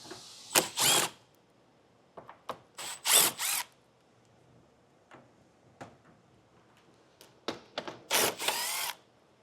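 Screws being removed around the front fascia of a 2022 BMW X6, heard as short bursts of a power driver and clicks alone, spaced out in clusters with quiet gaps between them.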